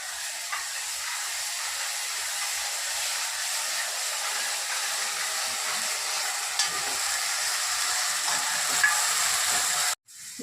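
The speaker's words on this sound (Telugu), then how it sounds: "ఇదిగోండి మసాలా కూడా వేగింది చక్కగా." Ground masala of coconut, coriander seeds, poppy seeds, cinnamon, cloves, ginger and garlic sizzles steadily in a pan for mutton curry, a close, continuous frying hiss that cuts off abruptly near the end.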